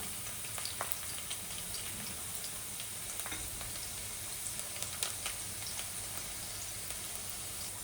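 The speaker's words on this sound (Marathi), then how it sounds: "तेल चांगलं तापलं की मग भरपूर असा ठेचलेला लसूण" Crushed garlic dropped into well-heated oil for a taro-leaf curry, frying with a steady, dense sizzle and scattered crackling pops throughout, close and fairly quiet.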